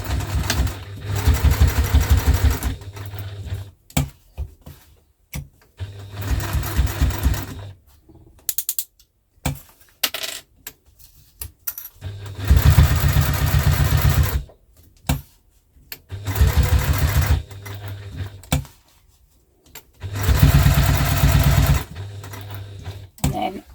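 Sewing machine stitching pieces of a duffle bag in repeated loud bursts of rapid mechanical whirring, separated by short pauses and quiet handling.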